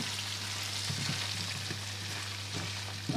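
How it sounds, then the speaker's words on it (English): Steady crackling sizzle of gammon steaks frying in a hot pan, close and continuous, with a few soft clinks and scrapes of a utensil. "So you can hear it sizzling."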